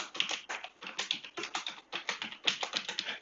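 Rapid keystrokes on a computer keyboard as an IP address is typed into a router login, a steady close run of light clicks with no talk.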